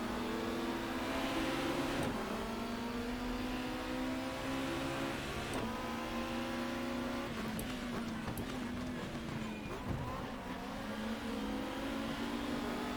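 A race car engine in the GTR 2 racing game, a 1994 BTCC touring car at Oulton Park International, drones steadily and loudly, its pitch shifting as the throttle eases off, with no pauses throughout.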